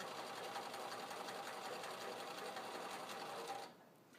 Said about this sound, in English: When you're stitching, you want to stitch all the way to the cut edge